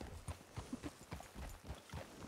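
Horse hooves clip-clop steadily in the RedM video game, a regular series of muffled close steps over constant background noise, with no voices.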